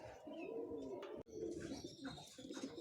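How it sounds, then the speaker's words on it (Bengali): A male Fulshira Kaldama pigeon coos in soft, repeated low phrases under steady background noise, with a brief break midway. "ফুলশিরা কালদমা নর।"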